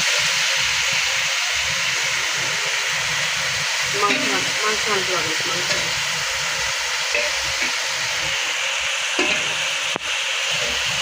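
Potato leaves fry in hot oil with a dense, continuous sizzle and hiss, joined by occasional stirring scrapes, steady and close throughout.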